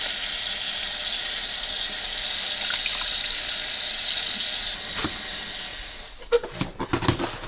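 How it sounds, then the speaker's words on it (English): Water pours and trickles steadily as pickled mustard greens are drained and squeezed, followed near the end by several wet splashing bursts and drips close by. "Drain and squeeze out as much water as you can from the mustard greens and place it into a bowl."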